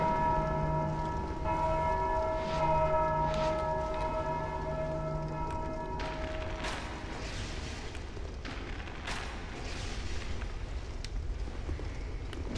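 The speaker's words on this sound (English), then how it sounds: "Someone keeps ringing bells here, and this is mean." Bells ring repeatedly in the video game Dark Souls 2, sustained metallic tones layered over a dark rumbling ambience, fading after several seconds into murky background noise with occasional thumps.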